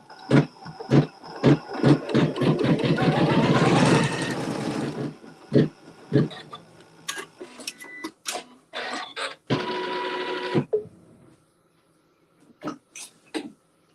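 A sewing machine stitches a quilt seam, joining green fabric pieces right sides together, in a rapid run of close mechanical stitching bursts that speed into a dense stretch, then shorter bursts and clicks with pauses between.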